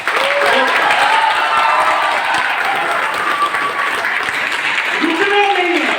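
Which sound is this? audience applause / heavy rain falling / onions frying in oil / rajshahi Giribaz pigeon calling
audience applause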